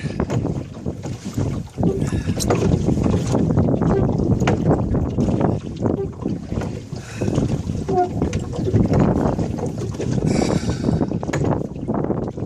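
Strong wind buffets the microphone while a boat is rowed on the water at Waterville, County Kerry, a steady loud roar with gusts over splashing and creaking, and a voice breaks in briefly.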